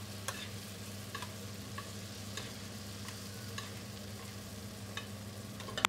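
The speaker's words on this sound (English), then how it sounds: "with a spoon, continuously baste the fish with the butter" Butter sizzling steadily in a hot pan as a Dover sole is spooned and basted continuously, a constant crackling frying hiss with faint spoon taps at intervals.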